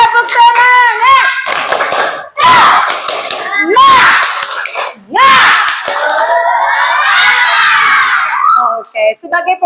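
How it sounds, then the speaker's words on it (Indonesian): A school class does rhythmic spirit clapping, with bursts of hand claps under loud, excited children's voices chanting and shouting together. The sound is close and fills the whole stretch. "kita mulai tepuk semangat dulu. Tepuk semangat."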